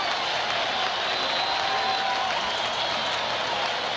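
A dense, roaring crowd at the 1991 World Series Game 4 between the Twins and Braves stands and cheers steadily, a broad wash of noise and applause without a break, with some faint voices underneath.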